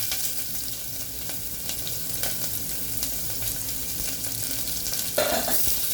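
Sliced onions frying in very hot, smoking oil for mint rice, a steady loud sizzle that carries on without a break and gets a little louder near the end, with no voices.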